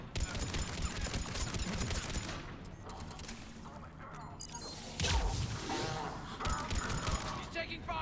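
Rapid gunfire crackling through a Mass Effect 3 firefight, dense bursts and fusillades continuing nearly throughout with a heavy impact or blast near the middle, combat voices shouting over the shooting.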